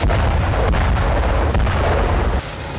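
Bomb blasts on the Russia-Ukraine battlefield, heavy booming explosions that roll into a sustained loud rumble, dense and continuous before dropping slightly near the end.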